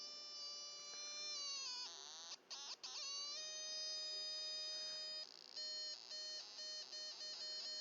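555 timer circuit driving a speaker directly, giving a thin electronic tone that holds steady pitches, jumps between them, then stutters in short beeping bursts, faint and alone.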